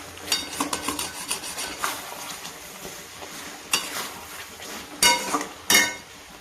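Chicken with garam masala stir-fried in a wok, a spatula scraping and clinking against the metal in uneven strokes over a low sizzle, with a few louder scrapes near the end.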